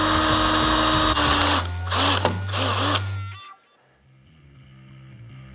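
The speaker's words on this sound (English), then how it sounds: "I'll drill that first hole with an 1/8 inch drill bit." Power drill boring a hole with a 1/8 inch bit during a bobber motorcycle build, a loud whining motor with several pulses of bit grinding, then stopping abruptly into quiet.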